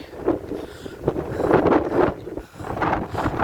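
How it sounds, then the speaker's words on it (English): Outdoor wind gusting on a mountaintop with forest and rocks, rising and falling in broad buffeting surges that batter the microphone over a few seconds. "it's starting to windy"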